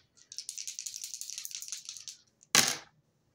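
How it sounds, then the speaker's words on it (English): Dice rattle and tumble in a rapid clatter for about two seconds, then a sharp louder burst as they land, close up with no talking. "rolling the dice to see what I need to shuffle a deck to."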